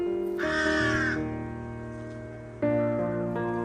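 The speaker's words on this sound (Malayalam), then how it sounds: "കാക്കയെ നോക്കൂ" A crow gives a loud, harsh caw near the start and a second, shorter caw a couple of seconds later, both close and clear against a faint background.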